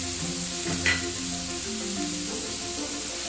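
Tomato paste goes into spices frying in oil for a chitol fish kalia, producing a constant loud sizzle with a brief stirring scrape, over a faint tonal hum.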